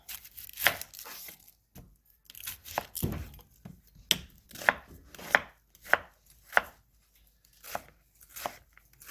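Half an onion chopped on a cutting board for a frittata: a series of sharp, distinct knife strikes, sparse at first then settling into a fairly regular rhythm, close and clear in a quiet kitchen.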